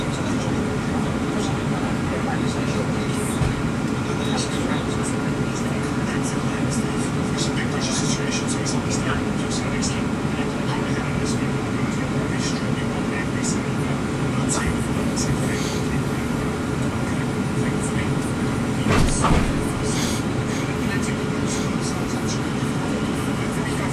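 SWR class 444 electric train running towards Poole, a steady interior rumble and hum of the carriage throughout, with a brief louder burst near the end and faint voices over the ride.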